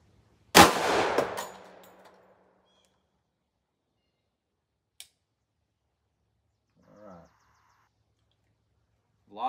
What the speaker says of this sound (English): All right, round one end of the gel.